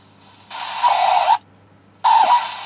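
Two bursts of broad, rushing hiss from a super-regenerative receiver fed into an audio amplifier, with a short silent gap between them and a faint low hum beneath.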